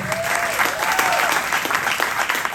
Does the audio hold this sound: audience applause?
yes